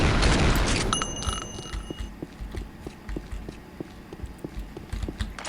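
Gunfire in the Unreal Tournament 99 video game, a loud burst of shots at the start followed by a series of sharp, evenly spaced clicks and thuds as the weapon reloads and fires again, with no talking.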